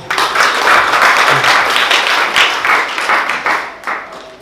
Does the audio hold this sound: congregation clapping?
yes